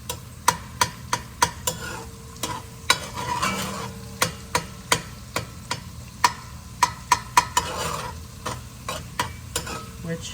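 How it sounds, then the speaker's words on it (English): Garlic sautés in a pan with a soft continuous sizzle, punctuated by a rapid series of sharp, regular clicks and taps from a spatula or spoon working the pan, all close and with no talking. "the garlic we just want to saute till it's just turning fragrant"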